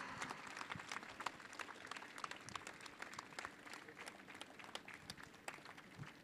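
An audience claps at a felicitation event for actor Brahmanandam, producing a dense, continuous wash of applause that stays fairly even and sounds a little distant throughout.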